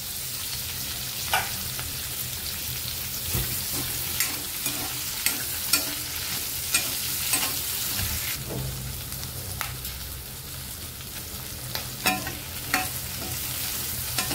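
Capsicum and onion fry together in butter and oil, a steady close sizzle broken by repeated sharp clicks of a spatula stirring against the pan, with no talking.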